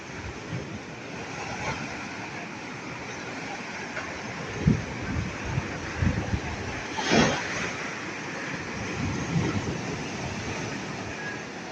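Big waves crash on a beach after Typhoon Enteng and wash out the ground beneath a house. A continuous rough roar of surf is broken by several heavier surging crashes, steady and fairly close.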